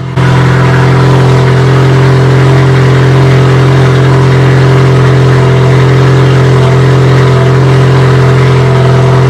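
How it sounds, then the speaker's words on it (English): A car engine idles high with a steady, loud, unbroken drone held at a constant pitch throughout, close by and alone. "My car idles so high that I have to let it sit before the idle."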